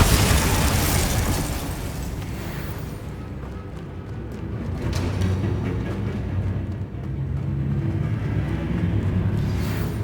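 In the video game Hogwarts Legacy, a Bombarda spell explosion erupts as a loud, dense roar of blast and debris that fades slightly and then swells again with a heavy rumbling tail, with no talking.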